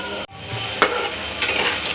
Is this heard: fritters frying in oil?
yes